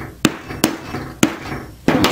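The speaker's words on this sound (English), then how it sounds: "punch that hole" Four sharp hammer strikes on a hole punch driving through leather for a samurai helmet, spaced irregularly with loud close impacts and short ringing decay, no talking.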